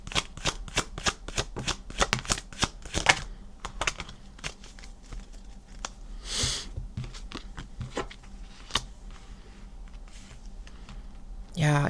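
Tarot cards are shuffled by hand in quick rapid riffles and slaps, dense at first, then thinning into scattered taps, with a brief soft rustle midway.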